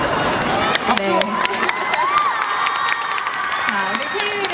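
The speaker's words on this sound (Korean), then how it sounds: "박수!" A concert crowd at Lotte World cheers and claps after the host congratulates students on finishing the college entrance exam, steady noise with scattered whoops and shouts, near and loud, while a host's voice runs through it.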